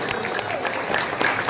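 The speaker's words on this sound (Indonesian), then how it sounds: "Tepuk tangan untuk kita semua." An audience claps at a community organisation's thanksgiving gathering. The applause is brief and dense, with a voice speaking over it.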